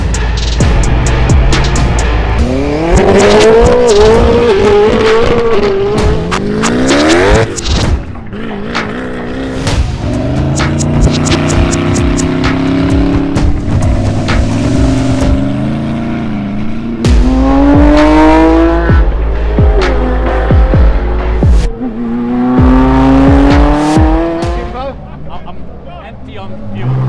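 A 1600 bhp Koenigsegg Jesko supercar engine revs in loud, sweeping rises and falls throughout, with people talking over the roar.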